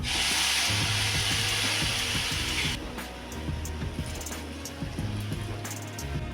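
Semolina cooking in milk with grated coconut is stirred steadily in a pan, giving a continuous close scraping and rubbing with a soft sizzle, loud at first and easing slightly partway through.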